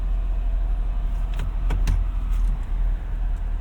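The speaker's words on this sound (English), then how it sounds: "we are off in the 2025 Ford F-250 Lariat Tremor" A 2025 Ford F-250 Lariat Tremor pickup with a 7.3L V8 pulls away, its deep engine rumble steady and close inside the cab, with a few short clicks and knocks over it.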